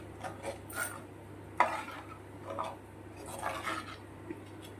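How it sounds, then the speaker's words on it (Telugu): Spoon stirring tamarind broth into a pot of Nellore-style fish curry, with a few soft scraping and clinking strokes at an irregular rhythm over a steady low hum. "ఈ పులుసు పోసిన తర్వాత ఇప్పుడు అంతా బాగా కలిసేటట్టు ఒకసారి కలుపుకుందాము."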